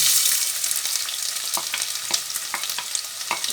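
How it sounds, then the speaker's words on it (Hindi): Onion dropped into hot sunflower oil sizzles loudly and steadily, with a dense crackling hiss and repeated sharp pops and spoon scrapes as it is stirred, no voices. "तेल गर्म हो गया, अब हम डालेंगे इसमें प्याज।"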